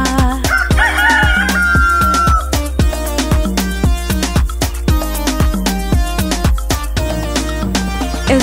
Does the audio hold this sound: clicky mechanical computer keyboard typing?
no